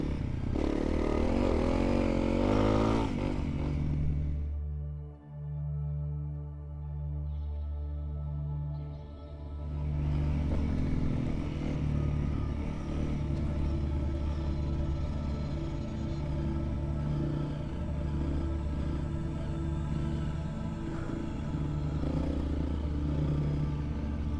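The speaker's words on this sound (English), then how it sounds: "This is such an awesome bike when it's built properly." A Honda CRF motorcycle riding on a road near a long bridge to a Finnish island, its engine a steady close rumble that briefly drops away to a quieter idle-like tone before the loud riding noise returns.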